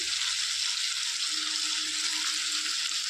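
A quiet, steady frying hiss rises from a pan of sautéing tomato, tamarind, coriander and mint, with a soft low hum underneath and no sharp stirring sounds.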